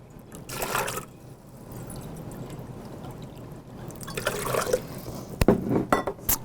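Water is poured in for a cashew-based holiday loaf, with two short splashing bursts into a container followed by clinks and kitchen handling noises.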